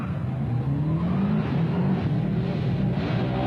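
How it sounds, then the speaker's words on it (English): Engines of rally race cars, including a Subaru Impreza WRX, at a 1999 carpark race, droning and revving steadily up close with rising and falling pitch, no voices over them. "After warming up their engines, the cars headed into various car parks for the race."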